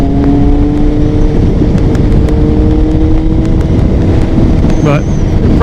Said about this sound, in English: we'll give it a little bit of throttle